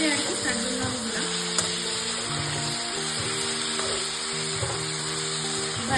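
Spice masala sizzles steadily in a hot pan after a splash of water is added, a dense continuous frying hiss with occasional stirring scrapes and a faint tonal hum underneath, close and even throughout.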